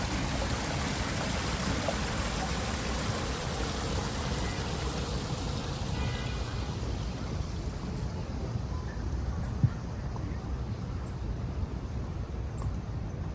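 Water fountain splashing at an outdoor water feature in Manhattan, a steady continuous rush of falling water that fills the scene evenly, with faint city noise underneath and no talking.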